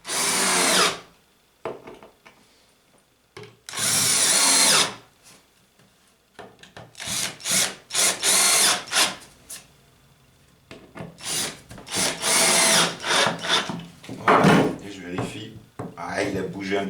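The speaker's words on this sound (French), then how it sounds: "Allez, on met les vis." A power drill drives screws into the wooden boards of a Layens beehive floor, giving several loud whirring bursts of a few seconds each, with pauses and handling noises between them.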